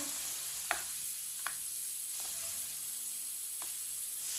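Chicken kebabs frying in oil in a pan, a soft steady sizzle and hiss with a few sharp little pops, close but quiet, no talking.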